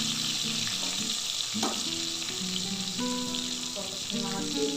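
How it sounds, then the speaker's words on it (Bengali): Eggplant slices fry in hot oil for a Bengali begun sundari dish, cooking until reddish-brown. A loud, steady sizzle holds throughout, with occasional soft clinks and shifting tones underneath. "দেখি ভালো করে লাল করে ভেজে তুলে দিচ্ছি।"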